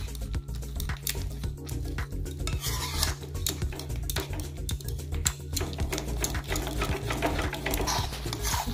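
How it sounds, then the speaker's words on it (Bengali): Boiled lentils are pressed into a paste with a ladle in a pot, giving a fast, continuous run of close scraping and squishing clatter over a steady low background hum. "এখন আমি হাতা দিয়ে চাপ দিয়ে দিয়ে ডালটা পেস্ট করে নিচ্ছি।"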